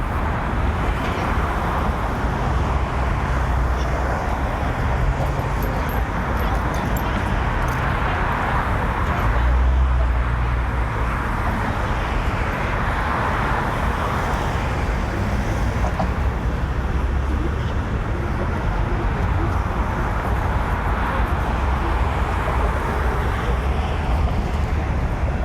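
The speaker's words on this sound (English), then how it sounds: "It's a bridge that carries traffic, so you will hear traffic." Steady roar of traffic crossing the Brooklyn Bridge in New York City, a continuous broadband rumble of cars and heavy vehicles with no breaks, a brief swell near the middle, and faint voices in the mix.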